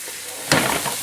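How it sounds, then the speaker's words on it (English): A sudden burst of sizzling as onions and celery hit hot oil, then a steady crackling fry continuing close by. "we want to start by frying off our onions and our celery"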